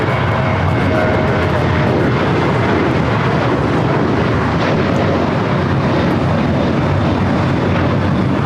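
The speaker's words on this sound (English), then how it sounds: "This is United Airlines 469 taking off to San Francisco on the 737-800." United Airlines Boeing 737-800 jet, flight 469 to San Francisco, taking off from LAX, a steady broadband engine roar with wind buffeting that stays loud and constant throughout, no voices.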